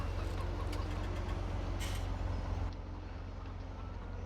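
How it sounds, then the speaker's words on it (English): Chickens clucking in Farming Simulator 17 on a farm map, short faint clucks scattered over a steady low engine hum from a farm vehicle. "The chickens, I wish the chickens were maybe in a little area that was to themselves"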